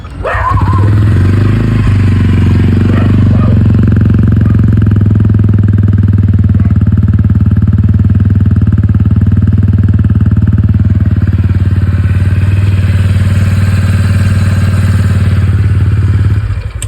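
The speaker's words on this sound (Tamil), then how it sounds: "இன்ஜின் நாய்ஸ் கூட அதிகமாகிடுச்சு, கலகலான்னு ஆயிடுச்சு வண்டி." A TVS Ronin 225 motorcycle engine runs steadily and loud at close range, its deep throbbing idle carrying a rattly, clattering mechanical noise ahead of its third service, with no talking.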